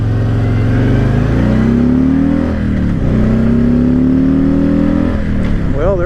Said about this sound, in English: I love the M8 engine. I just love it. Rumble, rumble, rumble.